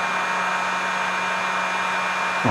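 A heat gun blows hot air over a freshly painted goby-style fishing jig, giving a loud, steady rushing roar with a constant hum that holds throughout and shifts slightly at the very end.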